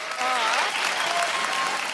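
Audience applause at a stage performance of a Sudurpashchim folk dance, a steady dense clapping from a crowd that fills the whole moment without pause.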